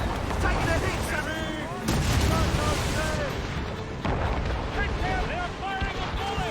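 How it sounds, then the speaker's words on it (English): Ship cannons fire repeated booming volleys during a naval battle in Assassin's Creed Rogue, heavy continuous blasts with crashing water, under shouted voices and pitched tonal cries. "They're firing a volley!"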